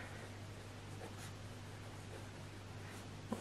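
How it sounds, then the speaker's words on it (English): A Parker 45 fountain pen with a medium nib writes on paper, giving a faint, continuous scratch of nib strokes close by in a quiet room. "it's a Parker 45, medium nib, Robert"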